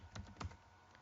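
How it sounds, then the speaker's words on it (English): Someone types on a computer keyboard while entering items into an Excel spreadsheet. A few quick, close key clicks land in two small bursts, then the sound falls quiet. "I'll begin by typing in what I plan to track."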